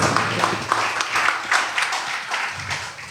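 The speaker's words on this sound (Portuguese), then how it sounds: "Salva de palmas" A church congregation claps together after a worship song, a dense, steady patter of many hands that holds evenly for a few seconds with no voices over it.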